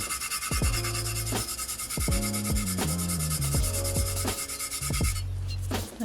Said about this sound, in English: we're going to just rub down the tumbler